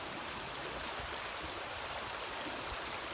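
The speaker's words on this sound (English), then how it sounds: "while the river's eating away at the bank." A low river runs steadily past an eroding bank, its broadband rush of flowing water continuous and fairly near, with no voices over it.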